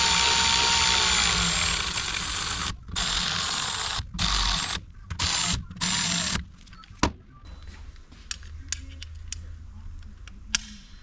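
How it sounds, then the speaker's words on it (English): Bolts being run into an automatic transmission valve body with a power driver: several loud whirring bursts with short pauses, then sparse light metallic clicks and taps. "I'm just going to run these in, but I'm not going to get them tight yet."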